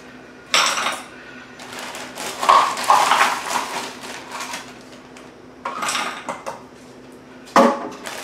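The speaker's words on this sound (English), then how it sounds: "I'm gonna put in 2 cups of these berries into my pan." Frozen berries go into a pan on the stove, making hard clattering knocks and rattles against the metal in several separate bursts with pauses in between, close and fairly loud.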